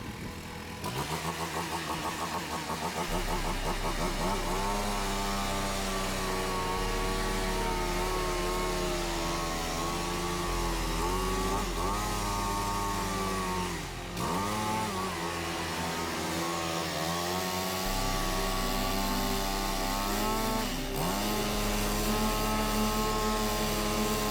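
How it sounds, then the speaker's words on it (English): A leaf blower blasting leaves out from under hedges, giving a loud, steady motor drone with a wavering pitch that runs the whole time, with no talking. "I'm finna blow the leaves from up under."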